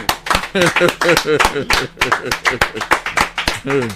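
Audience clapping for guests at a live Yoruba music performance, a rhythmic steady beat of hand claps running through the whole stretch alongside a singing voice and accompaniment.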